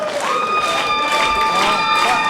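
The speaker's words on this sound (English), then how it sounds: "Now look at the crowd finally getting into things, screaming for Jarek Mathews" A wrestling crowd at the Riverside Elks Lodge roars and screams, a loud continuous wash of cheering voices with shrill yells rising over it throughout.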